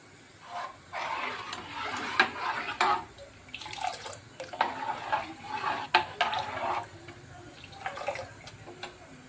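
Rice being stirred continuously in a pot of milk for jaggery payesh, a wet swishing and scraping that comes in repeated strokes with occasional clinks against the pot, close by and without speech.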